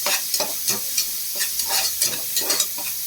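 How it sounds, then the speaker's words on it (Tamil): Mint leaves and a chopped green chili sautéing in a pot for one-pot rice, with steady sizzling under rhythmic scrapes and clinks of a stirring spoon, close and fairly loud. "அது வரைக்கும் கொஞ்சம் வதக்கிக்கலாம்"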